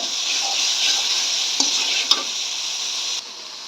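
Spice paste sautéing in oil in a pan for a raw tomato and potato dish, a bright continuous sizzle close up, broken by a couple of light utensil taps against the pan.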